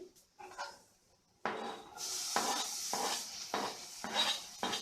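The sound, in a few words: tomato being added and stirred into fried onions in pan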